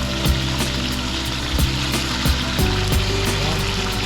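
Pork chops frying in a pan for bistek, a steady loud sizzle with occasional soft pops and clinks throughout.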